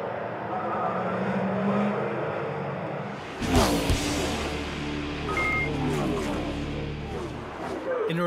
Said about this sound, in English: Escalier gets past and sets off after Porta.